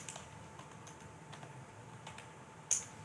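Quiet typing on a computer keyboard while coding, soft scattered key clicks at an irregular pace with one sharper tap near the end, close but faint over a steady low hum.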